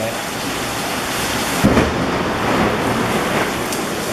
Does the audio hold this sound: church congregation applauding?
no